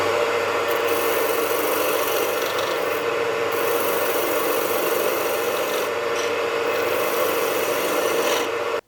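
Continuous abrasive rasping of 100-grit sandpaper against wood spinning on a lathe, loud and close, with a steady whirring hum underneath.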